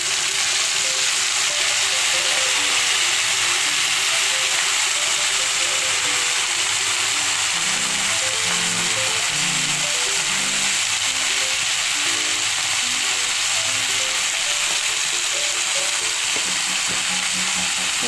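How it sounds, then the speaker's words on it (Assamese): Tori fish pieces and potatoes fry in a pan, giving a continuous loud, even sizzle that carries throughout, with occasional soft bubbling underneath. "তৰি আৰু আলুখিনি বহাই দিছোঁ।"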